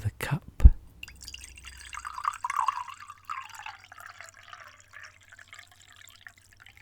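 Hot Lemsip drink poured into a cup, a faint trickling, bubbling stream lasting a few seconds after a sharp knock at the start, quiet and close with soft whispery speech nearby.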